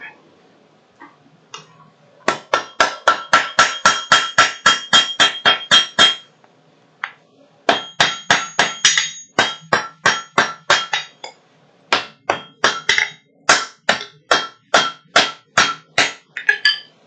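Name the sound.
power hammer forging metal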